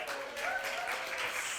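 Audience at a startup pitch night applauding steadily as a dense, continuous wash of claps, filling the whole moment without a break.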